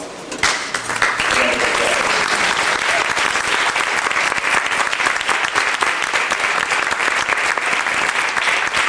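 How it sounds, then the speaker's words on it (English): Sustained applause from a sizable crowd, dense clapping that swells in quickly and stays loud and even to the end. "so we can give you a round of applause"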